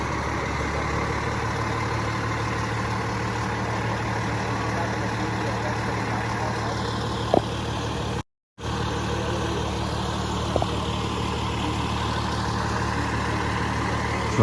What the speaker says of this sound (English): Here comes the tow truck.